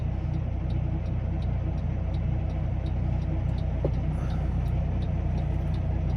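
A truck rumbles along on the road, its engine and tyre noise forming a steady loud low drone that fills the whole stretch without a break.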